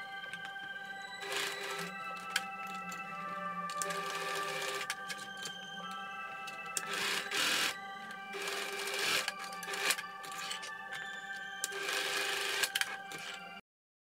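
A sewing machine top stitches the back facing of a sleeveless tiered dress, running in repeated close bursts of rapid whirring stitching separated by short pauses.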